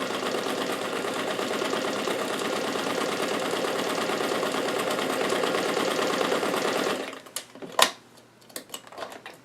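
A domestic sewing machine runs steadily on its longest stitch length for a gathering stitch on a doll dress, a continuous close mechanical whir for about seven seconds before stopping, followed by a few soft clicks and handling sounds.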